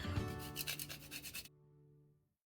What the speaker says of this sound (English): A teaspoon of nutmeg, guys, you grate.